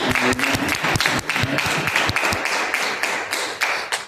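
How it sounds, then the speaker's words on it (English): An audience claps in a lively round of applause, with individual hand claps standing out sharply near the listener amid the steady wash of the crowd. "I want to give my good friend, Mayor Eubanks, a round of applause."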